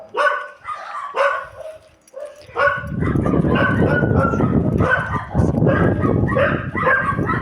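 Several dogs barking in another dog's territory, first a few sharp separate barks, then a dense, loud, overlapping chorus of barking and yipping that continues to the end.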